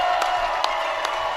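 Crowd at a high school boys varsity basketball playoff game cheering as the final seconds run out, a loud sustained roar with a few sharp accents like claps or shouts, continuous throughout.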